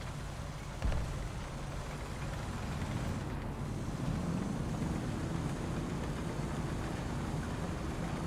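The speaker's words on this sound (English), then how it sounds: "This is an enemy engine sound." An enemy vehicle engine rumbles faintly at a distance in War Thunder, a low continuous drone with a single sharp thump near the start.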